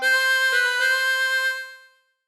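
A chromatic harmonica plays the short Family Guy theme phrase, a few sustained reedy notes close to the listener, fading out after about two seconds with no voices.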